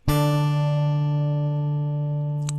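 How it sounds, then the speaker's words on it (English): Two mountain dulcimer strings, melody and bass, plucked together ring out in a single bright, sustained chord that slowly fades, with a faint tap near the end. "Pick against the melody string, middle finger against the bass string, squeezed and plucked to sound at the same time"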